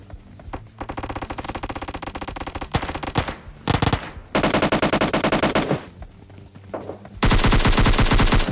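Automatic gunfire from PUBG Mobile Lite in a solo match: loud rapid bursts of shots in several volleys, with short pauses between and a final sustained burst, no talk over it.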